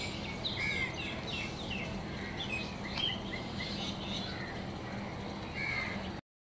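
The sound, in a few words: sparrows chirping in the morning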